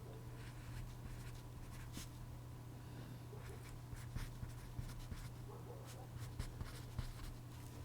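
A pen scratches across a paper character sheet in short strokes and taps, faint and close, over a steady low hum with no one talking.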